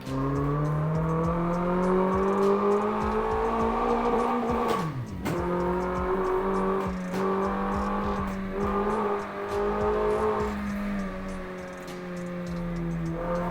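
A Doğan SLX car engine revs hard in Assetto Corsa on a road drive, its loud, steady tone climbing through the gears. A sharp gear change comes midway, then the engine pulls smoothly again with faint tire and mechanical whir.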